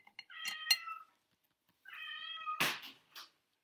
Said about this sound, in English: That's my own cat, not the house, the Tibetan cat.